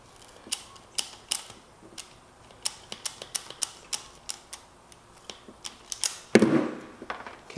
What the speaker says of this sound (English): we're gonna split the cable, and then we're gonna strip it, and then cut it